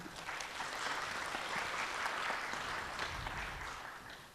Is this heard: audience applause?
yes